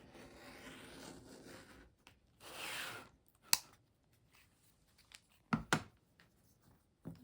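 Fabric being cut into rectangles against a quilting ruler, with a long steady slicing pass followed by a few sharp clicks and scrapes as the ruler and cutter shift, close and fairly quiet.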